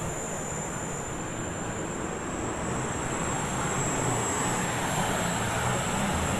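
A John Deere tractor drives in at a national farm machinery show, a steady loud engine drone that holds throughout, with no talk over it.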